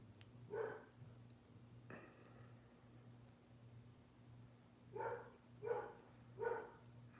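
A dog barks nearby in a quiet setting, first with two sharp barks spaced apart and then, after a pause, with three more in a quick run over a low steady hum.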